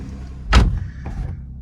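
A BMW M140i car door closes with one solid, close thud, followed by a faint rattle and interior clicks in a quiet cabin.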